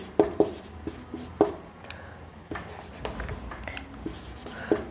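A pen writes a vaccine name by hand on paper, making close scratchy strokes with sharp taps at intervals, quiet and unaccompanied by speech.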